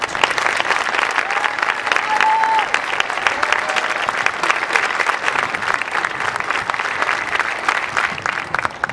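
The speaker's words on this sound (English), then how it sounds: "Let's give a round of applause to our wonderful faculty." A graduation commencement audience at the University of Dallas claps for the faculty, sustained dense applause filling the hall at an even, loud level throughout.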